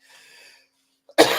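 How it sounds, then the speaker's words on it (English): A single sharp cough bursts out close after a soft breath and a moment of quiet. "I don't know why I'm coughing like this."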